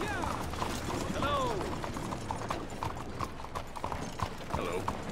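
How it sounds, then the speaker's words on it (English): Horse hooves clip-clop in Red Dead Redemption 2 as a hitched horse moves nearby, steady hoof beats with some creaking tack and a faint whinny, under background game sounds. "my horse was hitched there right for me"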